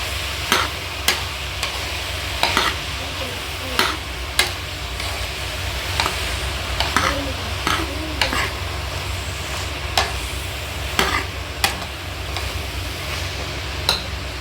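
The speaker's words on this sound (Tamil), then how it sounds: "கொஞ்சம் வதக்கிட்டு சுரக்காயை" Bottle gourd being sautéed in a pan for a Tamil-style mash: steady soft sizzle with sharp, irregular clicks of a spoon stirring against the pan, close and alone with no talk.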